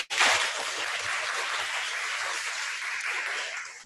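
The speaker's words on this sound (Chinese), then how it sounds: "鼓掌" An audience applauds at the close of a Chinese-language online class, a dense, steady wash of clapping that starts abruptly and holds evenly for a few seconds before cutting off.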